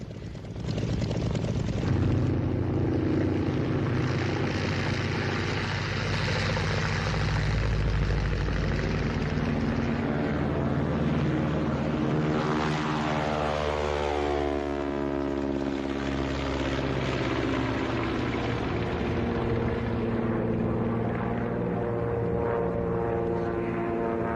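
A 1940s propeller interceptor plane revs up and takes off, its loud engine roar swelling then shifting pitch as it pulls away over about twenty-four seconds, with no voices.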